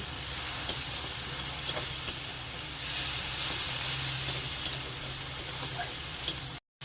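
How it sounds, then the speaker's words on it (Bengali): Onion paste fries in a pan with a constant close hissing sizzle, broken by occasional light ticks and spatula taps, and the sound cuts off abruptly at the end with no talk. "তো এর মধ্যে দিয়ে দেব পেঁয়াজ বাটা। পেঁয়াজটা একটু ভালো করে ভেজে নেব।"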